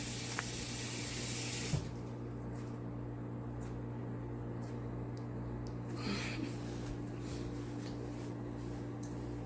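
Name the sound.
water running while washing hands at sink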